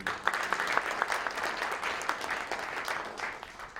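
An audience at a Christian New Year prayer breakfast applauds to welcome a speaker, many hands clapping in a steady crisp patter with individual claps standing out, holding at an even level throughout.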